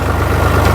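A tractor engine runs steadily nearby, a loud low rumbling drone with constant vibration and no pauses.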